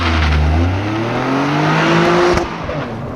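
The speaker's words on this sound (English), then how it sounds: "'23 Toyota GR Corolla. Circuit Edition prototype without launch control." 2023 Toyota GR Corolla Circuit Edition prototype with a turbocharged 1.6-liter three-cylinder making 300 horsepower, launched without launch control, its loud, close engine note climbing steadily in pitch through a sustained pull with a brief shift-like break near the end.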